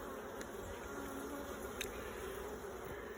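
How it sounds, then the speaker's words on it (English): Honey bees buzz in a dense, continuous hum during an open hive inspection, close and steady, with a few sharper passes of individual insects near the microphone. "These are worker bees."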